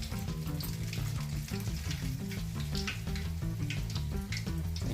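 Urad dal vadas, ring-shaped fritters of ground lentil batter, fry in hot oil with a loud, continuous close sizzle and fine bubbling crackle that holds steady throughout, with no voices over it.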